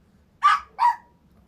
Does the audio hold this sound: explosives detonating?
no